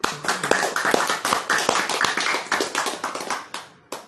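Audience clapping at a religious sermon, a few seconds of fairly dense, close hand claps in an uneven rhythm that thins out toward the end, with one final isolated clap.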